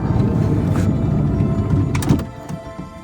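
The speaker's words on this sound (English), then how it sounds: "You will first open up the door." A 2014 Dodge Grand Caravan minivan's sliding side door rolls open with a steady mechanical rumble, ending in a latch clunk, close and fairly loud.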